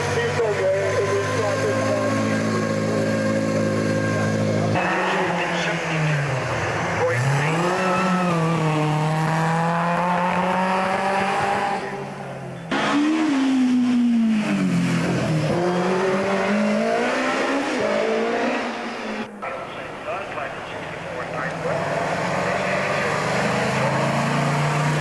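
A 1924 Bugatti Brescia racing car drives past, its engine rising and falling in pitch through repeated revs and gear changes, loud and near, with someone talking over it.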